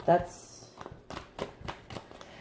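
Tarot cards riffled and shuffled close at hand, a brief voice at the start followed by a series of quick, crisp card-flicking bursts in a loose rhythm.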